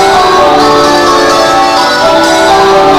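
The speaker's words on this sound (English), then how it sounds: "This was the bell that I just rang to an up position." A cathedral tower bell at Washington National Cathedral rung up by a bell ringer, its loud, rich metallic tone ringing and sustaining with strong overtones, one stroke blending into the next resonance.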